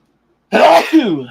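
A single loud sneeze bursts out close by after a moment of silence, sharp and breathy, trailing into a short voiced tail.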